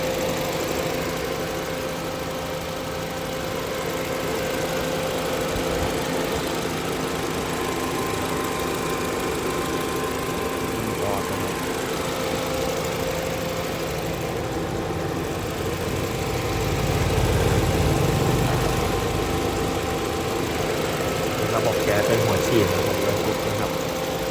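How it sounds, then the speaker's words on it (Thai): A 2010 Honda Jazz GE engine idles steadily with a constant low hum and vibration throughout, while someone talks over it. "อันนี้เครื่องยนต์นะครับ"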